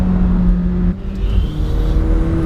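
McLaren 720S supercar pulling hard at high revs on the road, its engine a loud, sustained close-up roar with a brief dip near the middle before climbing again.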